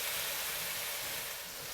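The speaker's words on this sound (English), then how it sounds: "Now we add in 200 milliliters of water." A steady hiss of 200 millilitres of water pours continuously into a pan of stir-fried potatoes, carrots and minced meat, close by, tapering slightly toward the end.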